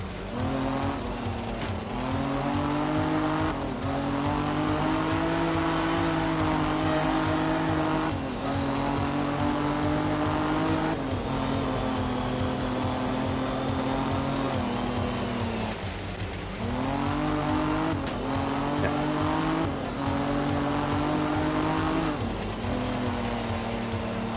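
A rally car in a racing video game, with the engine revving hard through repeated rises and falls as gears change and the car lifts off the throttle. A tire squeal appears now and then, and there is no talking.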